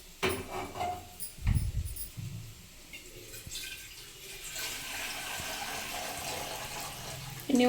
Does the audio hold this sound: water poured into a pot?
yes